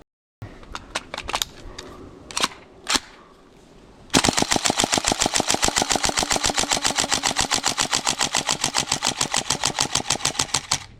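A GHK AKM airsoft rifle fires, first as a few scattered single shots and then as a long, loud, rapid automatic burst that runs through the magazine, sharp and close, with no talking.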